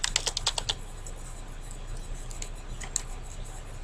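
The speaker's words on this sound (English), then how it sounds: "select the text that's in there and type your name" Fingers type a name on a computer keyboard: a quick burst of crisp key clicks, then a few scattered taps, close and fairly quiet, with no voice.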